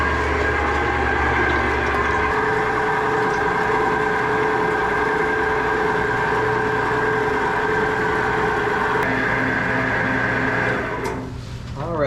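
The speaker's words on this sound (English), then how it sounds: "we're gonna run it through the grinder up here." Electric meat grinder churning beaver meat for jerky, a steady close mechanical motor hum with a low rattling drone running continuously, then briefly shifting near the end.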